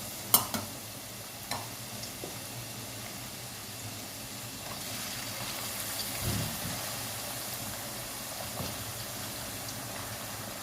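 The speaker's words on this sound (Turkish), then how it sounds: "Önce patateslerimizi kızartıyoruz." Potatoes fry in a generous amount of hot oil, with a steady close sizzle and hiss throughout and a few sharp clinks and stirring scrapes. No one speaks.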